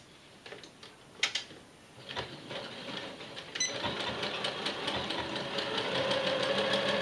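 A sewing machine stitches a pinked seam, starting with a few scattered ticks and then settling into a steady, faint mechanical whirring and ticking that grows slightly louder toward the end.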